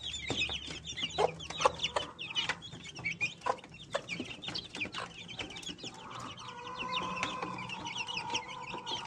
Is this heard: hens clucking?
yes